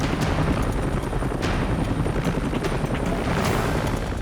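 A rescue helicopter holds a high hover above a cliffside, its rotor and engine producing a loud, continuous, rumbling roar with rhythmic blade thumps throughout.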